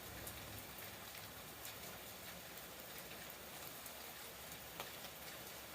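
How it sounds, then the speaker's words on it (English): Steady rain falls in the Pacific Northwest as a soft, even hiss with scattered drip taps, faint and constant, with no voices. "It started raining like this"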